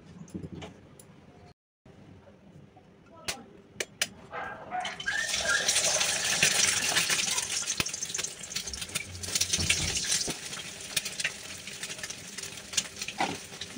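Eggs go into hot oil in a kadai for egg bhujia. After a quiet start with a few light clinks, a loud hissing sizzle bursts up and settles, with scattered scraping clatter.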